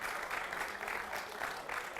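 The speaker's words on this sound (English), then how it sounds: "We have a round of applause" Scattered round of applause from an esports event audience for a contest winner, fairly faint and distant, a steady patter of clapping throughout.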